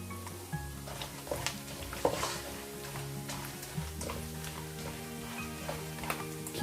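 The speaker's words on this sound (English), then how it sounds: "the coconut is completely cooked and fried in the oil" Grated coconut frying in hot oil in a pan, a steady close sizzle with occasional stirring clicks and scrapes and no talking.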